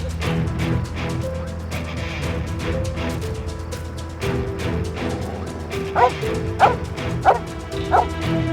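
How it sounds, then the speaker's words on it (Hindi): A dog barks and yips over and over in a drama scene, short repeated bursts above a steady low background with some speech-like sound mixed in, the barks growing sharper and more distinct toward the end. "ये सामने देखकर मुसलसल क्यों भौंकता जा रहा है?"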